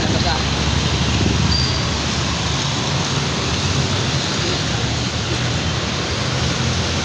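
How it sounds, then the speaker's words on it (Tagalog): Heavy rain pours steadily and loudly outdoors at a shoe bazaar and food park in Marikina, a dense continuous hiss throughout, with voices talking faintly beneath it. "Maulan."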